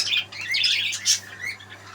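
A young pet parrot squawks close by in a harsh, continuous run of scratchy calls, rising to one louder shriek midway before trailing into softer chatter.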